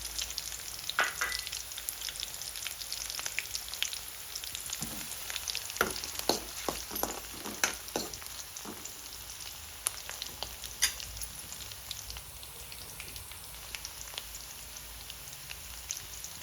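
Onion and curry leaves frying on a low flame, a soft steady crackle and patter of sizzling with occasional light stirring scrapes, fairly quiet throughout.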